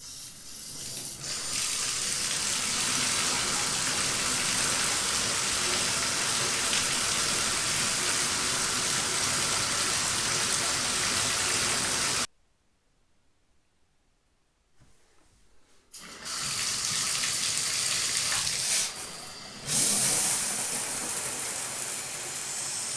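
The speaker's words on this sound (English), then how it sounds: "there's not that much water that comes out of the diverter" Water gushes steadily from a bathtub spout diverter at low pressure, a loud continuous hiss that stops abruptly for a few seconds before resuming.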